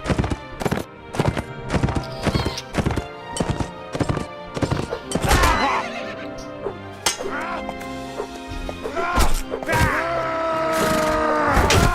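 In Mount & Blade: Warband, rapid clip-clopping hooves drum steadily, then a horse neighs loudly with a drawn-out whinny, followed by more scattered hoofbeats and a second whinny.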